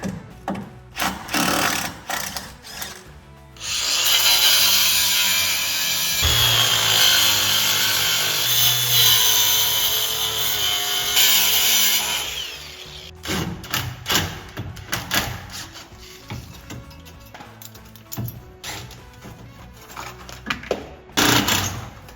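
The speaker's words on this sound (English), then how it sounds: "we're gonna take off our hose clamps for our pipes" Rusty hose clamps come off the pipes of a John Deere air cart being rebuilt, with scattered metallic clanks and thumps of tools, then a long sustained buzzing power-tool whir in the middle before more intermittent clattering.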